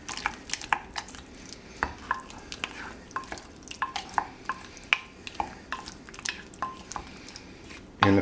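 Olive oil being mixed into chopped heirloom tomatoes for a garlic and vinegar salad dressing: wet squelching, dripping and clicking of a utensil against the bowl in an irregular run of small sounds, close and with no speech.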